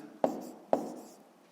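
Pen strokes mark numbers by hand on paper for a fifth-grade math exercise, two short distinct scratchy taps each trailing off, close and quiet.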